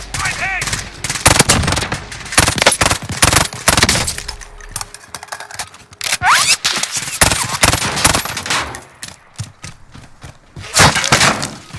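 Gunfire in Call of Duty: Warzone during a match in Verdansk, dense bursts of automatic fire and single shots with thuds, loud and close, with a radio-style voice in the mix.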